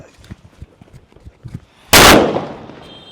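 A big firecracker goes off with one loud, sudden blast that decays over about a second, after a few quiet voices and small knocks.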